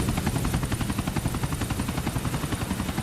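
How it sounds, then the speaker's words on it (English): A helicopter in the video game GTA IV, its rotor chopping in a fast steady rhythm throughout, fairly faint with a metallic whine on top. "So now he jumps into the chopper."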